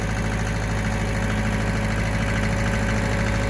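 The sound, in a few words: Mitsubishi D2650FD tractor engine running, loader hydraulics lifting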